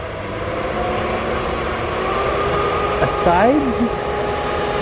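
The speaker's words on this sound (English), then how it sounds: "from all the railroad noise that's going on across the river." A train rumbles on a railway across the river from an RV park in Golden, British Columbia. The low, steady, continuous roar sounds distant and carries throughout, while a person speaks briefly over it near the end.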